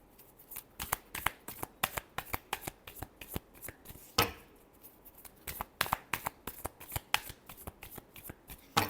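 Tarot cards are shuffled by hand, a long run of crisp, rapid riffling snaps and flutters close up, with steady repeated bursts and no talking.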